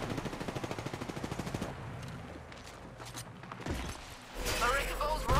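Automatic gunfire in Apex Legends, a rapid even rattle of shots for about two seconds, then quieter mechanical clicks and shuffling before a louder burst of game effects at the end.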